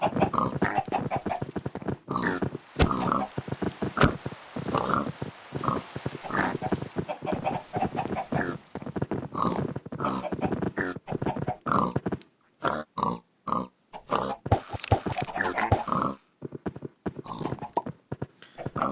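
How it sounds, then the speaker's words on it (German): Pigs in the video game Minecraft oinking amid clopping hoofbeats and animal noises, a choppy busy stream of short sounds with a few brief gaps, with voices of players talking throughout. "uns sind gerade fast alle Schweine abgehauen"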